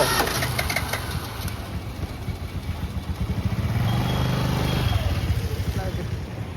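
A two-wheeler engine starts up and settles into a close, chugging idle on a street in Chennai, with people talking over it at the start.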